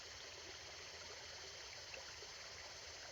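Water runs steadily down a gully beside a 700 m contour channel, a constant broadband rush with no clear splashes, distant-to-moderate and unbroken throughout.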